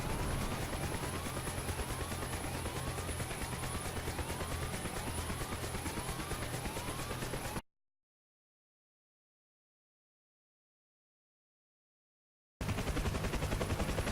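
A helicopter flares and touches down after an autorotation, its rotor chopping loudly and steadily up close. The sound cuts out completely for several seconds, then resumes at the same level.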